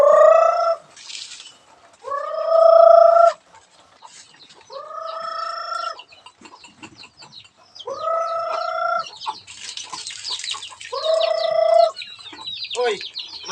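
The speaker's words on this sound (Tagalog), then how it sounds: "magpapakain tayo ng mga native natin na manok" Native chickens cluck and crow loudly in a yard while being called for feeding, with several strong bursts of rooster-like calls repeating every couple of seconds amid softer background clucks.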